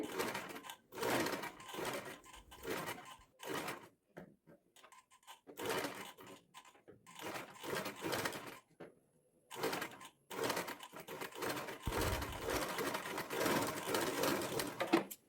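A sewing machine stitches a neckline in short, quiet bursts of rapid needle clatter, starting and stopping repeatedly with brief gaps between runs.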